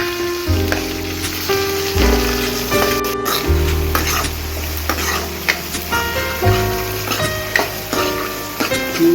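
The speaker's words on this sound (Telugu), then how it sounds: "జీలకర్ర, ఎర్రగడ్డలు సన్నగా తరిగి పెట్టుకున్న ఎర్రగడ్డలు, కరివేపాకు వేసుకున్నాము." Cumin, thinly sliced onions and curry leaves frying in a pan with mustard seeds, a steady close sizzle broken by repeated stirring and scraping, with cooking music playing underneath.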